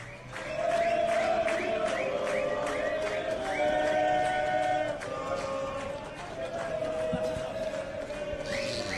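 Flamengo supporters cheer, shout and sing in a boisterous crowd as a flight crew arrives for a fans' charter flight. Overlapping voices and whistles form a loud, continuous din.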